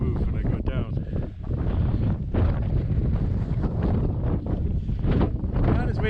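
Strong, steady wind buffets the microphone on a cold, windy mountain summit, a continuous loud roar with gusty swells that fills the whole stretch.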